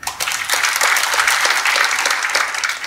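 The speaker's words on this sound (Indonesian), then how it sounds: "tepuk tangannya masih ragu-ragu," A church congregation claps together, a dense, steady round of applause with many overlapping hands, fairly loud and close, sustained for a few seconds without talk.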